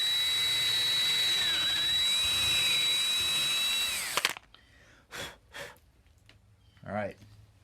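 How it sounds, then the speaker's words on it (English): Power drill boring into a wooden Feger Furnishings mug rack to replace a broken peg, a loud steady high whine lasting about four seconds before cutting off, followed by brief bursts of talk and handling noise. "You want to keep the drill bit as straight as possible,"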